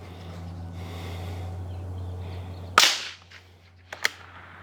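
A single sharp crack from a .22 rimfire rifle fitted with a Banish 22 suppressor and firing Remington Golden Bullets 40-grain ammunition, loud and close against quiet outdoor ambience, then a fainter click or two afterward.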